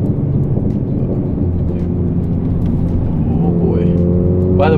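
A tuned Hyundai Elantra Sport with 411 wheel horsepower accelerates at a proving ground, its engine droning steadily from inside the cabin, then rising in pitch as revs climb toward the end, with a voice talking over it.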